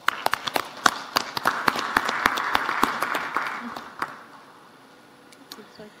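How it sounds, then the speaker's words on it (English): An audience applauds a panel at the close of a discussion, with sharp individual claps standing out over a dense round of clapping that fades after about four seconds. "Please join me in giving them a very hearty round of applause"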